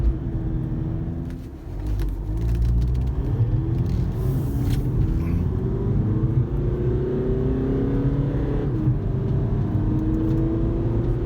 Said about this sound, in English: This is acceleration with it floored.